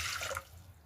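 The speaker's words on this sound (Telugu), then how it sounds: "కుక్కర్లో వాటర్ వేసుకొని" Water splashes into a pressure cooker in a home kitchen while dal is being prepared, a brief, soft pour that tapers off quickly.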